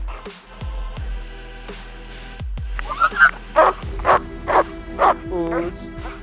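Working protection dog during bite training at a K9 facility: after some low thumps and a voice, a run of about six sharp, evenly spaced loud barks close by.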